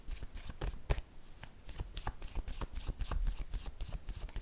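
Tarot cards shuffled by hand in quick, crisp riffles and slaps, a rapid irregular patter of card flicks, close and fairly quiet, with no talk.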